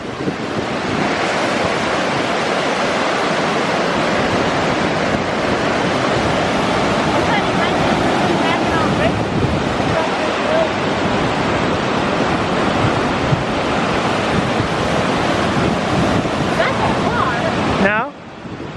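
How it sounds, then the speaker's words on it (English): River water rushes into a lake near Tahquamenon Falls in Michigan's Upper Peninsula, a loud, continuous roar and wash with wind buffeting the microphone, steady from start to end. "Here's that water rushing in, but then it has to fight to get its way out into the lake."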